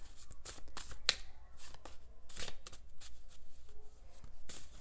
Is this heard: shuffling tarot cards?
yes